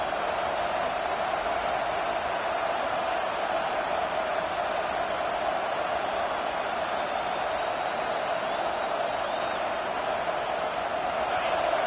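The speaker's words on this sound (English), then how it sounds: "Listen to this crowd just shaking the girders of this place, trying to help their defense." A crowd at a football stadium during a game roars steadily and loudly, a dense, unbroken wash of distant voices that holds at the same level throughout, with no clear single voice.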